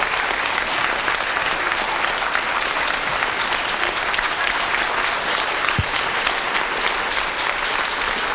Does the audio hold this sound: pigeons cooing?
no